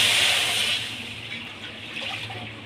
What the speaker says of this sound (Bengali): এবার কড়া বসিয়ে আমি ওতে জল দিয়ে দেব।